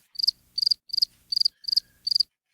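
Crickets chirp in six evenly spaced bursts of rapid, high trills, each roughly a third of a second long, clear and alone against a silent background.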